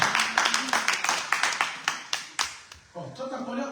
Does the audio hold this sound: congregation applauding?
yes